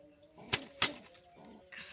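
Pet pigeons perched in a tree at home give two sharp bursts of wing flapping close by, with soft low cooing underneath.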